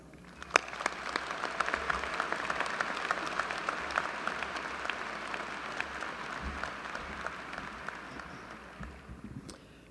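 A large audience breaks into sustained applause to welcome Sergio Alcocer at a University of Texas honors ceremony, steady dense clapping filling the hall for about ten seconds, with no talk over it.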